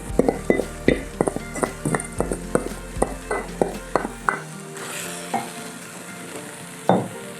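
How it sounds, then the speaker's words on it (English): Masoor dal is stirred into a softened mixture in a hot pan, giving a steady run of close, rhythmic scrapes and clacks over a sizzle that thins out midway, followed by one last louder scrape. "then we're just going to stir this together, keep it on the heat for a couple of minutes"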